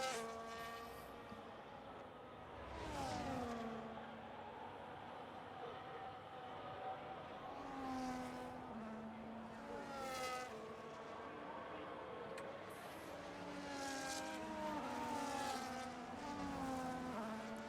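Race cars rolling around the Abu Dhabi circuit on a formation lap in a realistic racing video game, several engines droning and whining in rising and falling pitch, some passing nearer in swells, steady and fairly quiet throughout.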